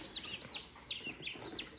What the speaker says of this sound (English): They're bronze turkeys.